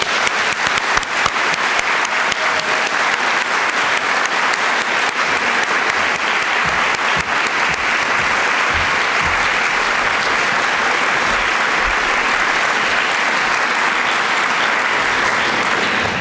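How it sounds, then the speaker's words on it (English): Sustained, dense applause from an audience at a university graduation awards ceremony stays loud and even for the whole stretch. "Can we give one more round of applause for all the outstanding graduates and their mentors?"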